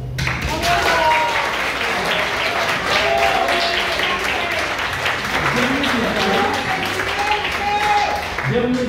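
Warm applause from a crowd at an annual celebration carries on steadily, while voices and murmurs drift through the clapping.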